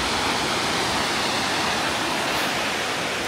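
Waterfall among the mountains and forest of Furano and Biei, Hokkaido, in summer: a steady, dense rushing roar that fills the whole stretch with no breaks and no voices.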